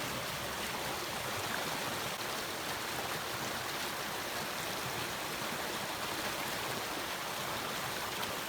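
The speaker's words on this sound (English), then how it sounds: "Boy, that water is coming down." Steady rushing water of a stream swollen by heavy rain, a continuous broadband wash with no breaks, fairly soft and even throughout.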